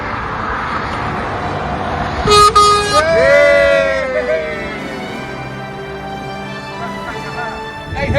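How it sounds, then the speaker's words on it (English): A loud truck air horn blasts once in a long tonal honk over steady road and engine noise, with brief voices around it. "See if we can get a honk, mate."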